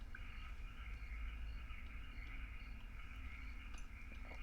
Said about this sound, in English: There is a lot of frog noises happening.